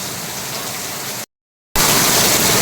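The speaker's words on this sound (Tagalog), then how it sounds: "grabe po yung ulan dito" Heavy rain pours in a dense, loud hiss, cut by a half-second gap of silence before it resumes even stronger.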